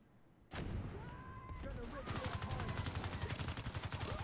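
Gunfire and a grenade blast in The Division 2, starting abruptly after a quiet half second, then rapid rhythmic automatic fire with a dense, loud burst texture continuing to the end.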